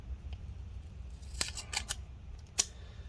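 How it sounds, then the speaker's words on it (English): Scissors snip through a strip of tape in a few sharp, quick cuts near the mic, set against a low steady background hum, with no talking. "Then we're going to cut it in half like this."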